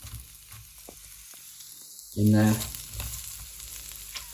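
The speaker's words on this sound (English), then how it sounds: "Frying away in that coconut oil." Red cabbage frying in coconut oil in a pan gives a steady close sizzle, with a brief louder burst of crackling midway as it is stirred; a few words are spoken quietly.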